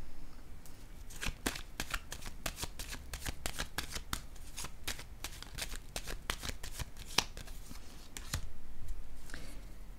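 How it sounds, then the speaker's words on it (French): Playing cards are shuffled and laid down during a tarot-style reading, a dense run of crisp riffling snaps and slaps close to the mic, steady for the whole stretch with a brief rustling burst near the end; no talking. "Je vais déposer une autre carte ici."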